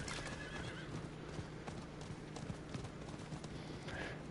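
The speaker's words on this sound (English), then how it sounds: "All right, on our horses, let's get riding" Horses gallop with steady, dense clip-clop hoofbeats in Diablo IV, a neigh rising near the start and another whinny near the end over a constant low rumble.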